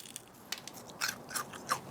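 Someone bites into crispy deep-fried Thanksgiving turkey, giving a few quiet, sharp crunches spaced over two seconds and close to the mic, with no talking.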